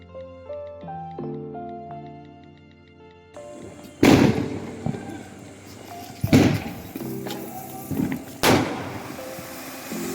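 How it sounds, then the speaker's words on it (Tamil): Diwali sky shots and flower-pot fireworks going off at night, three loud sharp bursts with crackling tails after a quieter opening of tonal sounds, fairly close and echoing. "நம்மகிட்ட இருக்கிற ஸ்கை ஷாட்டு, அதுக்கப்புறம் புஷ்பானம், இந்த மாதிரி நைட்டு வெடியெல்லாம் இருக்கும்ல,"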